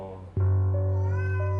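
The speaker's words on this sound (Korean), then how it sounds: "제 이렇게 침대를 붙잡고 제 귀에다 대고 야옹해요" A pet cat meows loudly at night, one long, drawn-out, wailing cry rising sharply and holding a steady tone, close and prominent.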